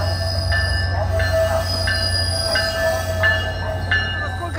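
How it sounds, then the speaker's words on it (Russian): A train rolls steadily past a station, with a low rumble, rhythmic clacks of the wheels every half second or so, and a faint metallic squeal. "Вот смотрите, поезд идет."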